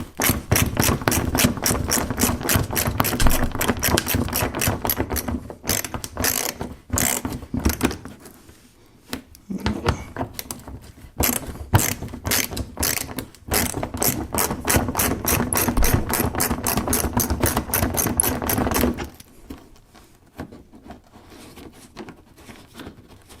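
Screws holding the fog light assembly on a Toyota Tacoma are backed out with a ratchet, producing loud, rapid clicking bursts close up, separated by brief pauses, with the last few seconds quiet.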